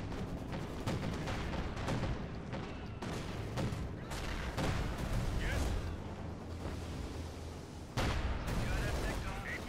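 Katyusha rocket artillery fires in a Company of Heroes 2 battle, a dense, loud, continuous roar of launches and explosions with sharp bursts throughout and no pauses.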